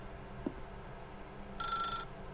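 Telephone ringing in The Stanley Parable video game, heard as a brief, faint, bright electronic ring near the end of a quiet passage.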